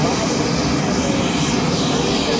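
A UH-60 Black Hawk helicopter with a 54-foot rotor disc at a joint services open house demonstration makes a loud, steady, broadband roar of rotor and turbine noise that fills the whole stretch without a break.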